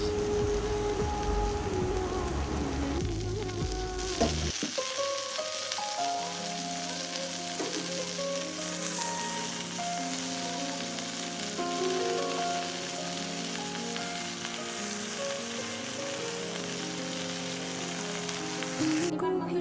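Masoor lentils and rice with vegetables frying in a pan, giving a dense, continuous sizzle that crackles steadily throughout and grows slightly brighter after the first few seconds.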